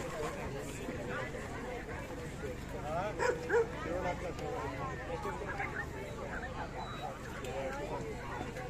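At a German shepherd show in Ireland, dogs bark and yip among crowd babble, with a few sharper nearby barks standing out midway above a constant murmur of voices.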